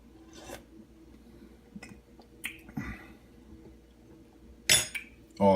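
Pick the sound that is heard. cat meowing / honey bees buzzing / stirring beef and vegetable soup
stirring beef and vegetable soup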